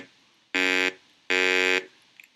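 Synthesized vowel sound built from two formant bands, heard as two identical steady buzzy tones, each about a third of a second long with a short gap between them, bright and close with no talking.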